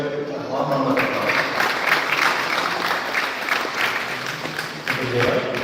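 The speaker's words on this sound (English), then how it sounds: "with a warm round of applause" Graduation ceremony audience at a pharmacy college giving a warm round of applause for a speaker, sustained crowd clapping at steady volume with some murmuring voices mixed in.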